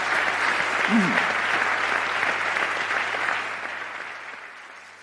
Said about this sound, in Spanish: pido un aplauso para todo lo que han dicho estos 7 protagonistas